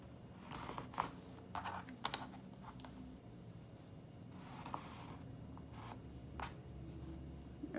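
A marker or chalk draws a dart line on fabric for a trumpet maxi skirt, making faint, close scratchy strokes and light taps in short bursts over a quiet background.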